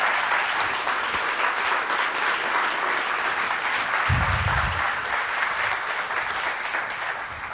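An audience gives a sustained, even round of applause in a hall, with a brief low thump partway through as the clapping continues.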